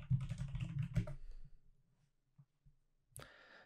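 Typing a command on a computer keyboard, a dense burst of quick key clicks that slows into a few scattered taps and ends with one sharper keystroke, close and quiet.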